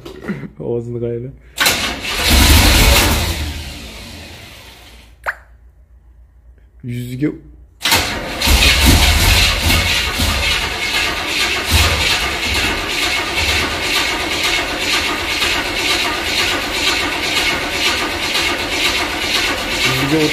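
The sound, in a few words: car engine starting and running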